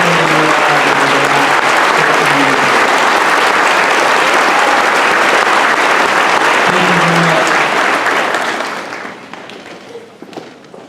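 A graduation audience gives school staff sustained, loud applause from a large crowd, continuous clapping for about eight seconds before it thins out and fades.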